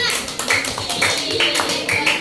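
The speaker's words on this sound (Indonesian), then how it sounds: "Beri tepuk tangan buat kelompok 5" A primary school class claps for a group of pupils after their presentation, a loud run of brisk, uneven claps close by, with voices mixed in.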